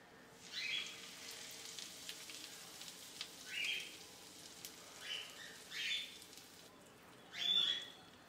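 Hot oil with two tablespoons of Kashmiri chilli powder poured over mixed spices, giving soft, faint sizzling bursts that swell and fade several times, alone without any talk.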